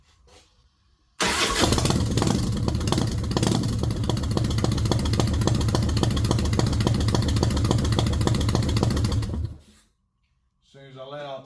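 A flood-damaged Harley-Davidson motorcycle recovered after Hurricane Ian cranks and fires up on choke, running loud, rough and close for about eight seconds before suddenly dying, followed by a voice.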